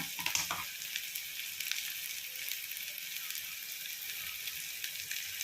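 Ginger paste sizzling in hot oil with onion, chili and curry leaves for a chicken curry, a steady broadband hiss of frying with a few brief stirring clicks near the start.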